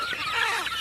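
Chickens clucking and pecking close by as they eat idiyappam, with soft, busy bird calls running through the short moment.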